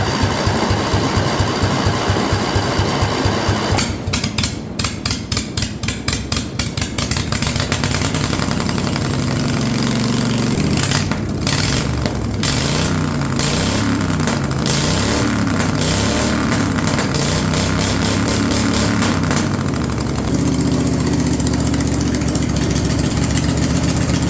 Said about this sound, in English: we won't have a silencer on this thing, so this engine is going to sound like a Harley